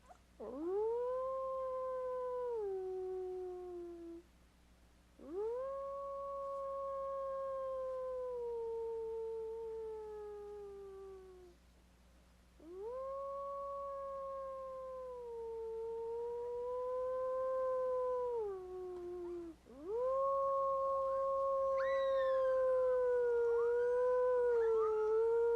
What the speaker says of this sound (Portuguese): A melhor forma de começar é com o uivo.